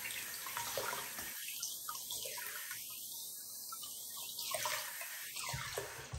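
Running tap water pours over a Shark vacuum filter being rinsed, a steady hiss of flowing water with gushing swells as the filter is moved under the stream.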